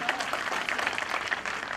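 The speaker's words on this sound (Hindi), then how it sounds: "जोरदार तालियां" Audience at a skills training site event in Pune applauding loudly during a passbook handover by a minister, a thick, continuous clapping roar with some voices mixed in.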